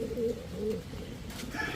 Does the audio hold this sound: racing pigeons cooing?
yes